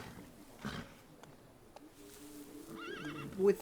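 A horse in The Thaumaturge video game gives a wavering, close whinny near the end, following faint hoof clops and a snort in a quiet scene.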